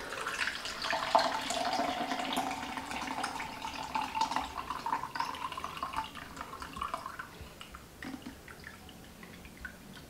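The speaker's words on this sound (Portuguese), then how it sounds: "eu vou colocar água até aqui e vou jogar dentro da jarra" Water is poured from a 500 ml measure into a jug in a classroom demonstration, a steady splashing trickle that gradually tapers off, fairly close and moderately loud.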